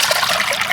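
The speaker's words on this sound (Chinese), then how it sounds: "锅里加水，" Water pouring steadily into a cooking pot over an outdoor wood fire while making dumplings, a continuous close splashing trickle with no pauses.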